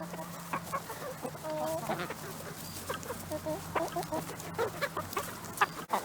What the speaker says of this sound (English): these chickens are still messing with the eggshells